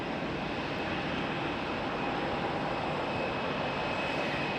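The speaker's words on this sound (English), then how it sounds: "we got an A321 American lining up right now" American Airlines A321 airliner on the runway at Raleigh-Durham International Airport, a steady, distant engine roar and whine that holds constant with no speech.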